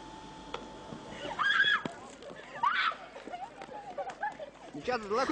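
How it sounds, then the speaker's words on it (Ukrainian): Water splashes in bursts as people douse each other on a street during Lviv's Easter Wet Monday, amid excited shrieks and lively outdoor chatter, with crowd noise throughout. "Хлюпали один на одного водою."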